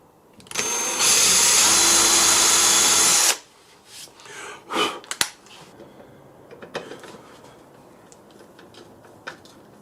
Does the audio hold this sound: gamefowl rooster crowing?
no